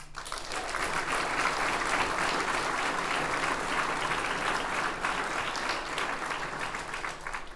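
Sustained audience applause at a police department promotional ceremony, swelling quickly into steady dense clapping from a large crowd that holds at an even level before easing slightly.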